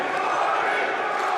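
A dense, steady roar from the crowd at a live fight night in the Salem Armory, loud and continuous with cheering and shouting blended into one wall of noise.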